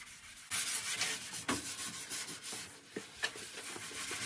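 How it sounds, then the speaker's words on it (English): Sandpaper rubbing over a wooden garden gate, a steady close scratching with repeated strokes and brief louder scuffs, no talking. "And while Eugene is sanding up this gate"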